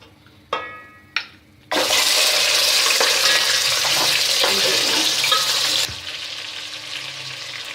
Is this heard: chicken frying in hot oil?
yes